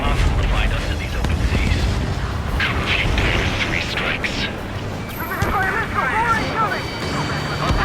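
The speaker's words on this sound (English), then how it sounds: "We've been hit by a missile!" A missile strike explodes in the Ace Combat 7 air-combat game, a deep rumbling blast layered with roaring engine noise and game radio voices talking over it.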